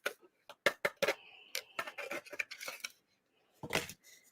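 Diamond painting drills rattled inside a small container, a quiet scattered clatter of tiny plastic beads shaken in irregular bursts with a short pause before a final shake.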